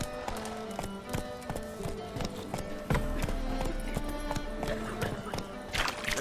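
A horse galloping in The Witcher 3: Wild Hunt video game: steady, rhythmic clip-clop hoofbeats over a dense layer of game music and ambience, loud and continuous throughout.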